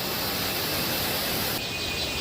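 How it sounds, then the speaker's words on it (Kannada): Torrential water from the Iruppu waterfall in Coorg pours near a small suspension bridge on the path to the falls, a dense, continuous hiss and roar that stays steady throughout with no voices. "ಧಾರಾಕಾರವಾಗಿ ನೀರು ಹರಿತ"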